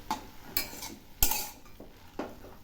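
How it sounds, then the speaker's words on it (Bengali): Fresh coriander greens are stirred in a pan for coriander leaf chutney: a few sharp metal clinks and scrapes of a spatula against the pan, close and spaced out, over a faint background hiss. "এই শাকগুলো অল্প একটু নাড়াচাড়া করে নেব"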